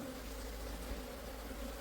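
Honeybees swarm around a hive box, making a dense, steady, low buzzing drone that stays fairly quiet and continuous throughout, with no voices.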